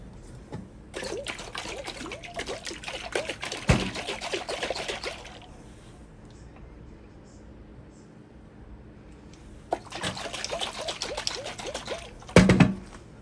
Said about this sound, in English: now we will shake this up and pour it over our pasta